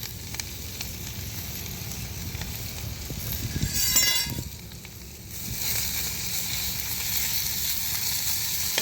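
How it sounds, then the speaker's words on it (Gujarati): Sambharo frying in hot oil on a stove, a steady close sizzle that swells briefly midway, with faint clinks of a utensil and no voices. "ચૂલે સંભારો બનાવ્યો"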